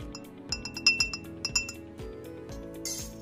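A spoon clinks and rattles against a glass while stirring a crushed vitamin C tablet in liquid, a series of bright close taps with ringing tones, no voices.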